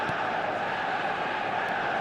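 A video game stadium crowd at Old Trafford in eFootball 2025 makes a steady, dense roar of massed voices that holds at an even level throughout.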